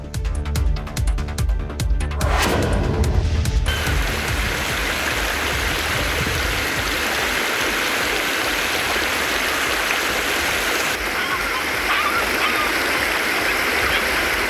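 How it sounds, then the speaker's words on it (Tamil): Floodwater after heavy rain surges down the Thamirabarani river, a loud, continuous roaring rush that fills the scene with unbroken splashing turbulence from start to finish. "கனமழையால் தாமிரபரணி ஆற்றில் தண்ணீர் பெருக்கெடுத்து ஓடுகிறது"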